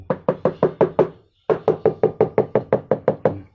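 Quick sharp knocks on a bottle holding a betta fish come in two close bursts, a short gap between them, each tap crisp, hollow and evenly paced.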